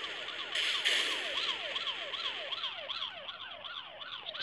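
A police car siren in the rampage video game Smashy City wails in rapid, repeated up-and-down sweeps. It sounds fairly faint and electronic, with a brief burst of crashing noise near the start and no talking.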